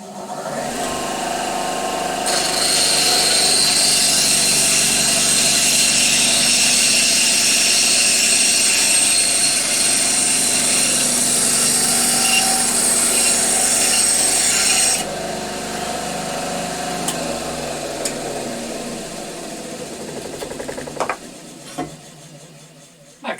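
A Clarke CBS 190 bandsaw cuts through wood with a loud, steady rasping whine for about twelve seconds, then the motor runs on quieter and winds down with a few clunks.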